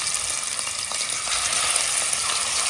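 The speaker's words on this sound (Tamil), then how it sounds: "கொஞ்சமா எண்ணெய் ஊத்தி இதுல நம்ம கொஞ்சம் கொஞ்சமா பொரிச்சு எடுத்துக்கலாம்" Prawns frying in a small amount of oil, a steady close crackling sizzle with faint stirring, continuous over a few seconds and free of speech.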